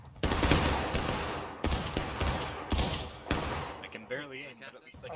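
Musket volley fire in the Civil War game War of Rights during an evening battle at East Wood: several loud, crackling volleys in close succession, followed by scattered distant shots and voices.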